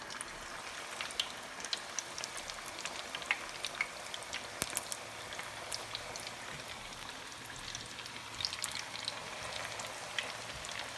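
Onion bhajis fry in very hot oil with a continuous crackling, bubbling sizzle dotted with sharp pops. Close but fairly soft, steady throughout, with no voices.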